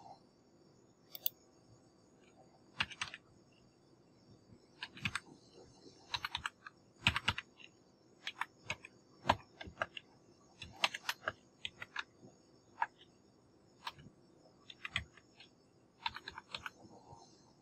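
Typing on a computer keyboard, a steady stream of close, light key clicks in irregular bursts with brief pauses, set against a quiet background.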